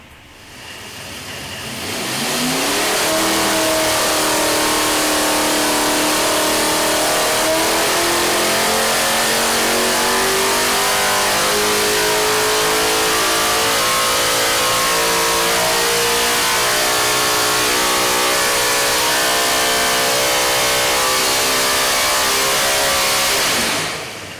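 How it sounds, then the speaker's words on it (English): A modified-class race car's affordable V8 race engine revs loud and close, climbing through a long sustained pull to very high rpm with a steady rising roar before dropping off at the end. "just to listen to a V8 that an average guy can afford to purchase and race make a pull to these stratospheric levels"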